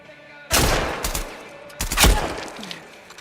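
Video game gunfire comes in two loud, close bursts of shots about a second and a half apart, each trailing off into a fading rumble.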